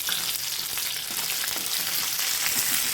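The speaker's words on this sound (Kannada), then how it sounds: "ಈರುಳ್ಳಿನ ಸ್ವಲ್ಪ ಎಣ್ಣೆಯಲ್ಲಿ ಫ್ರೈ ಮಾಡಿ" Chopped onion frying in oil in a pan for bisibelebath, a steady dense sizzle with faint stirring scrapes, close and continuous with no talking.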